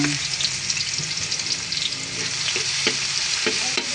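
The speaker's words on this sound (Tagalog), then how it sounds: "Una po muna, magigisa tayo ng bawang." Garlic sautés in a pan at the start of a coconut-milk banana heart dish, a loud continuous sizzle with light spoon clicks and scrapes in the second half.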